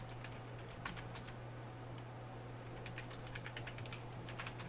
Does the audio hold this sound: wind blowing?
no